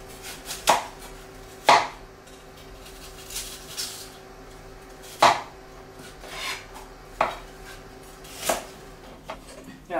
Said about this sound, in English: And then just cutting the apples once more in half.